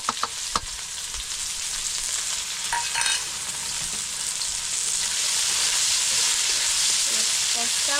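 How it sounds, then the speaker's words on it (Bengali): Chopped onion and garlic dropped into hot oil, heard as a few sharp clatters followed by a loud, steady sizzle that keeps building and filling the sound. "এই দেখো আমি নিয়ে নিয়েছি খানিকটা পেঁয়াজ কুচি একটু রসুন কুচি এটা দিয়ে দেবো তেলে"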